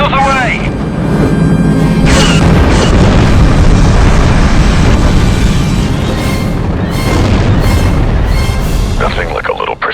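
Missile strike explosions from a strafing run in Star Wars: Republic Commando roll out as heavy booming blasts, loud and continuous with overlapping rumbles, and a voice briefly speaks near the start and end.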